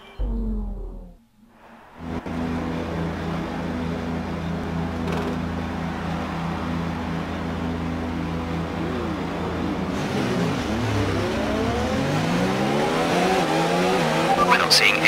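Formula 1 cars in F1 2019 idle and hold revs on the grid, then the engines surge and climb through the gears as the race starts, getting louder and denser toward the end.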